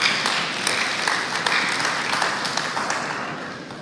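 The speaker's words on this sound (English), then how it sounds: "I want everyone to give themselves a round of applause." Attendees at a women-in-tech summit give themselves a round of applause, a moderate, somewhat distant wash of clapping with a few sharper claps standing out, steady throughout.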